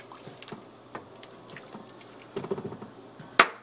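Meatballs are stirred in a pot of Italian wedding soup. Soft wet sloshing and scattered light clinks are quiet and close, ending with one sharper metallic clank.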